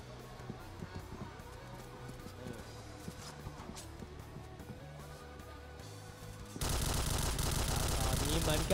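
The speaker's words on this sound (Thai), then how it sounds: "ตอนนี้เหมือนกระสุนมันสาดกันเข้ามามันสาดกันดังซะเหลือเกิน" Rapid bursts of gunfire crack back and forth during a heated match in a first-person shooter, dense and continuous under Thai commentary, swelling into a loud, saturated roar of shooting near the end.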